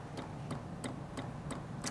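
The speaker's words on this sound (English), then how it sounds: "The other thing that you'll hear is a chugging with the machine as it's starting to get up to temp for" A Saeco Incanto espresso machine heating up for steaming gives a quiet, steady chugging pulse, about five evenly spaced ticks over a low mechanical hum, with no voices.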